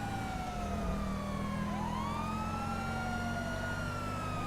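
A police car siren in a video game wails continuously, its pitch sweeping up and down over a steady engine drone.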